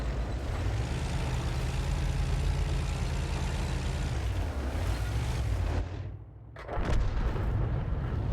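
A tank gun round fires in an online tank battle game, a deep heavy boom over a constant low engine rumble, followed by a sudden drop toward silence and a second burst of noise.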